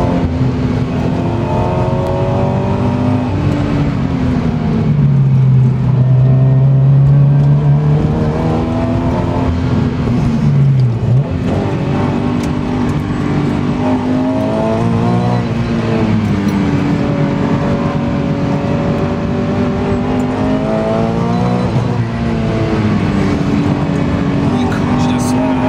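A supercharged Toyota 86 on a test drive with traction control switched off: its engine note repeatedly climbs and eases as the car accelerates, loud and continuous, while people talk inside the cabin.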